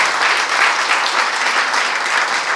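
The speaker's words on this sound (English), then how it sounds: "Let's give her a round of applause." Audience applause at a citizenship ceremony held at Casa Loma in Toronto: steady, dense clapping from a crowd, filling the whole moment without voices.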